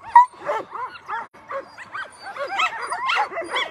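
Sled dogs at the start of the Willow sled dog race in Alaska yip, whine and bark excitedly in quick overlapping bursts, close by and rising in intensity toward the end.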